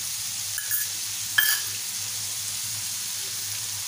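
Prawns sizzle steadily on a hot tava with green chili, ginger, garlic and coriander paste, a constant close hiss broken by a couple of brief sharp crackles over a low hum.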